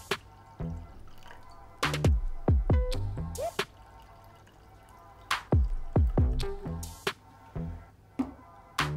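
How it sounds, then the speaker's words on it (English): Hot mulled wine splashes and glugs in uneven bursts, with drips and gurgling rising in pitch as a glass fills, close and distinct. "And I will just pour it."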